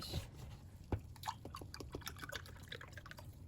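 Milk poured from a glass into cake batter in a bowl, giving soft, faint liquid splashes and drips in a quiet kitchen with no talking.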